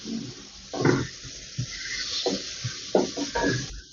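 Spices sautéing in a pan for kola urundai curry, with a steady soft sizzle broken by a few louder stirring scrapes, close and moderately quiet.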